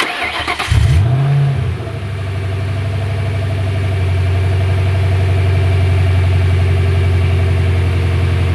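A 1996-2001 Ford Mustang GT (SN95) fitted with a Steeda cold air intake cranks briefly, fires up and settles into a loud, rumbling V8 idle that steadily rises in a sustained rev, close and alone.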